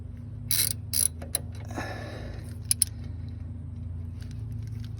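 A ratchet clicks a few times in short bursts while a bolt is tightened during an alternator swap on a 2007 PT Cruiser, followed by faint metallic taps over a steady low hum.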